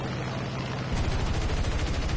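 Aircraft cannon fire during a head-on pass in War Thunder, a P-47 Thunderbolt against a Yak-9K with a 45mm nose cannon: after a second of steady engine drone, a loud, rapid, unbroken burst of shots takes over.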